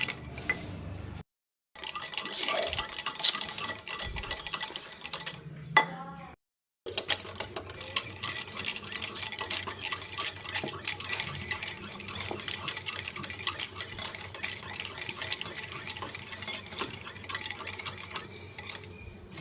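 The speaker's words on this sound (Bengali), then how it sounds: "দইয়ের মধ্যে আমি দিয়ে দিচ্ছি আইস কিউব, নিয়ে দইটা আমি ফেটিয়ে নেবো।" Yogurt whisked in a bowl with ice cubes for doi bora, a steady run of light clinking and scraping of the whisk, with a couple of brief pauses near the start.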